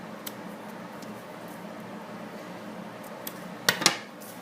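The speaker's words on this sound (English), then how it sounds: "And then I'm going to cut off all the extra." Scissors snip through the leftover cord of a handmade polymer clay necklace with faux patina vintage keys and feathers, two or three quick close cuts near the end after a stretch of quiet room tone.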